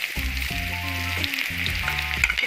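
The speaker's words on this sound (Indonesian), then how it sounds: "Kita tumis dulu ya guys." Onion sautéing in a little oil in a pan on the stove: a steady, bright sizzle running throughout, with low tonal sounds over it.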